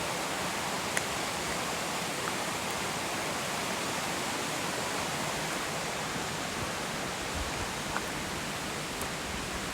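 Steady broadband rush of a stream flowing beside a hiking trail in Robert H. Treman State Park, New York, continuous and fairly loud with no talk over it.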